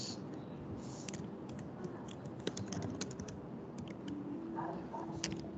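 Close keystrokes on a computer keyboard clatter in quick, irregular bursts over a steady background hum, with no talking.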